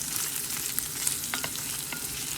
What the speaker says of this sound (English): Then add 4 to 5 red dry chilies and fry it well.